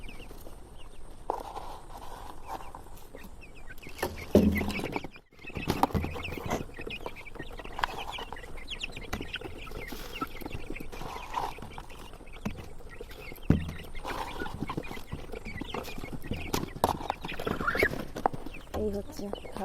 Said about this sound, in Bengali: মুরগি ছানাগুলো এই যে দেখছো, ওরা খাওয়ার জন্য পাগল হয়ে যাচ্ছে।